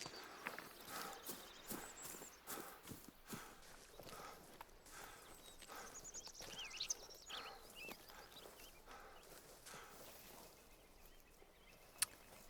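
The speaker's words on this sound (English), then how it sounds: "White-tailed deer running this way." A white-tailed deer runs in theHunter: Call of the Wild hunting game. Quiet, irregular hoof thuds and footfalls patter through soft outdoor ambience, with a faint bird call in the background.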